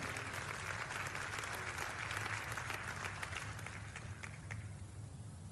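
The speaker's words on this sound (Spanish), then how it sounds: "den al Señor un aplauso de adoración" A church congregation gives the Lord a sustained round of applause, a dense patter of many hands heard quietly and somewhat distant over a low hum, thinning slightly toward the end.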